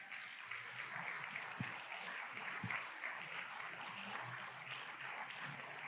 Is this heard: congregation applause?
yes